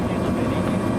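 A coast guard rescue helicopter on a sea search-and-rescue mission off Hsinchu gives a loud, steady rotor and engine drone, close and continuous, with a voice talking over it.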